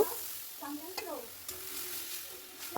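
Ginger-garlic paste and chopped tomatoes frying in a pan as they are stirred, with a soft sizzle and a few scraping strokes of the spoon, close by at a modest level with no talk.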